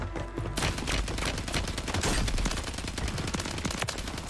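Dense, continuous gunfire in Call of Duty Warzone, rapid overlapping shots and bursts filling the whole stretch, loud and close with no talking.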